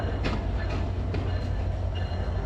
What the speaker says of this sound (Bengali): রাত একটার দিকে আমাদের ট্রেন আসতেছে